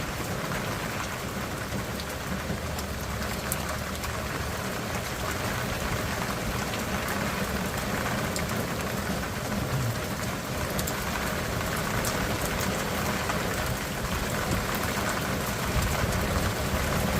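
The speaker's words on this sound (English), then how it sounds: "It's raining big time." Heavy rain pours steadily onto surfaces outdoors during a fishing trip on the Lower Laguna Madre, a dense, unbroken hiss with no voices.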